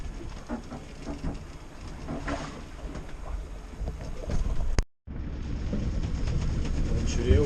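A boat engine on a trip between Gotland and Lithuania, started after water was pumped out of the hull, runs as a steady loud drone with wind rumble, briefly cutting out before resuming.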